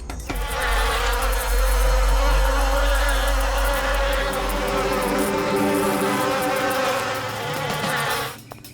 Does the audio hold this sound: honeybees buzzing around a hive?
yes